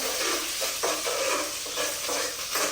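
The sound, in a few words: stirring food with ghee in pan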